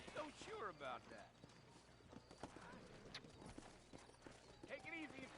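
Horse hooves clip-clop along a trail in the Western video game Red Dead Redemption, a steady trotting rhythm close by with an occasional whinny, under characters talking.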